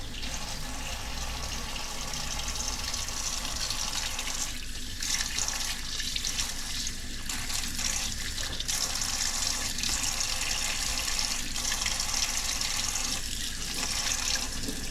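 Steady running tap water rinsing food in a sink, a continuous close hiss and splash that shifts slightly as the food moves under the stream, with no talk.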